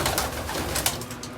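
Pigeons coo softly in a loft, a brief, close murmur of low, rolling calls over steady fan hum.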